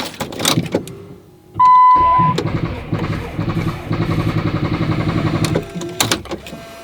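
A vehicle engine cranks with a rapid, rhythmic whirring chug for several seconds without catching, after a short chime and some clunks, then stops abruptly; no talking.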